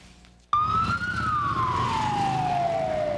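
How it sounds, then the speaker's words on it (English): Police cars and fire engines blare their sirens through downtown Washington, D.C., a loud, close wailing tone that sweeps down in pitch over heavy traffic rumble after a sharp onset. "Police, fire engines, and their sirens blaring."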